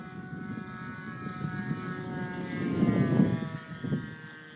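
A Piper Cherokee propeller plane drones steadily overhead, its engine hum swelling louder for a moment before easing off again.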